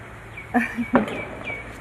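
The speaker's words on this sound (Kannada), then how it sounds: "ಹಕ್ಕಿಗಳ ಸದ್ದು ಹಕ್ಕಿಗಳ ಚಿಲಿಪಿಲಿಯೇ ನಮಗೆ" A few faint, brief bird chirps in a quiet setting, with a couple of soft knocks or thumps in between.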